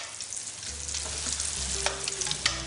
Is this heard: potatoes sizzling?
yes